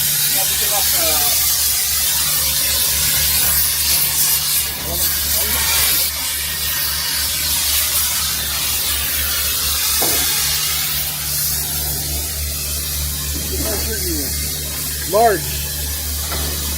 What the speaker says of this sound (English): is gonna attempt to torch off all the bolts to the frame